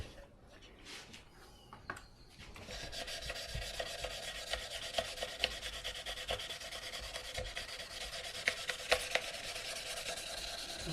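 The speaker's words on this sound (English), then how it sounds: "Wet sanding." Wet sanding the wooden body of a tenor ukulele with 320-grit sandpaper, with a tung oil finish. A steady, close, continuous rubbing and rasping starts after a quiet moment and carries on with small scratchy peaks.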